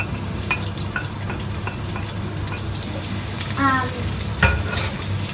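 Onion and shallots fry and sizzle steadily in a pan for mushroom risotto. The hiss is loud and continuous, with occasional stirring clinks over it and no talk.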